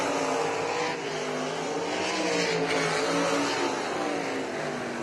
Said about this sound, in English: as 8 laps now in the books as Dustin Daggett flies by the start-finish line